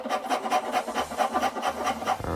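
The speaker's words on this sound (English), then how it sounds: "and some more rasping" A rasp scrapes an axe handle to fit the curve of the axe head, quick rhythmic back-and-forth strokes of rough wood filing, close and steady.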